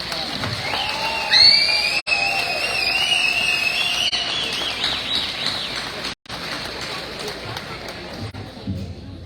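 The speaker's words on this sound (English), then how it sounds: "Let's give them another round of applause." An audience at a 2023 graduation ceremony for the Academy at Hickory Hollow applauds and cheers the graduating class, a broad, steady roar of clapping with high whoops and whistles that fades toward the end.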